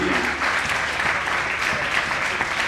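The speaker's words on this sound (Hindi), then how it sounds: "जोरदार तालियां" A crowd at a district judo championship ceremony in Jalandhar claps loudly and continuously, a dense, steady burst of applause filling the hall with a faint low rumble of voices beneath.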